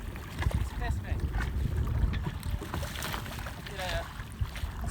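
A Sparkman & Stephens 24 sailboat under way, with water rushing and splashing against the hull, heavy wind buffeting the microphone, and faint talk in the background.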